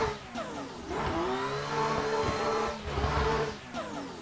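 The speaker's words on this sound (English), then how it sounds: "Third gear drop." Racing car engine in a driving game revs hard through rising and falling pitch sweeps, with a quick drop to third gear and bursts of acceleration, loud and close with no talking.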